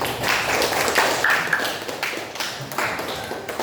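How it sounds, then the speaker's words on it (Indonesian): A classroom audience gives a round of applause, dense crowded clapping that runs steadily for a few seconds, close and fairly loud, with no speech over it. "Kita terus tepuk tangan dulu."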